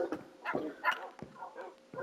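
Dogs in the Minecraft video game bark and yip several times in quick, uneven bursts, fairly close and distinct against a quiet background.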